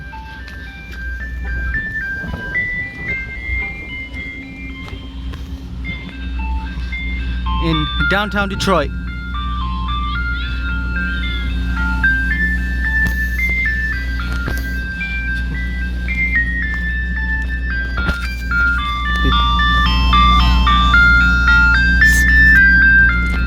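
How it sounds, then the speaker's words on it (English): A Wolo 345 ice cream truck jingle plays from a truck at Detroit Riverwalk Park, a bright repeating electronic melody over a low engine rumble, with someone talking over it. "Is a Wolo 345 ice cream truck."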